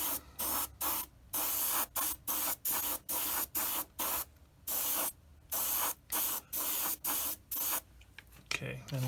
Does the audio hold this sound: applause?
no